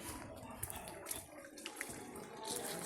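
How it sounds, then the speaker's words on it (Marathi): Water runs and splashes into a plastic bucket at a building site being plastered, at low volume, a continuous gurgling pour with small knocks and drips. "आपण पाणी घेतो आणि भरतो आहे त्या बादल्यांमध्ये"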